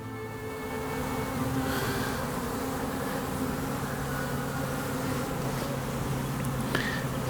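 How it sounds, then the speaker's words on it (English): Honeybees drone in a continuous, low buzzing swarm around an opened beehive during an inspection, steady and fairly close, with faint clicks and handling noises but no talk. "Now this has got a lot of bees on it."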